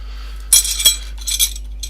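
A few sharp plastic-and-metal clicks and scrapes sound up close over a low hum, as a spoon pries open a keyboard casing to change the batteries.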